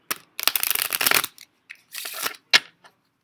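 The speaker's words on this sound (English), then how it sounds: "We'll shuffle it up." A deck of playing cards is shuffled up close: a long riffling burst, a short pause, then a second shorter riffle and a sharp tap of the cards squared together, with no talking.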